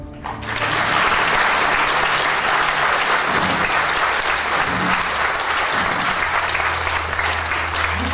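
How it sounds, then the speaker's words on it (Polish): A theater audience at a staged Pinocchio show bursts into loud, sustained applause that fills the hall, dense and steady from start to finish with no talk. "No, przepraszam, gdzie są brawa?"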